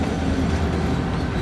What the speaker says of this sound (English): Trains are going around. Nothing's derailed lately.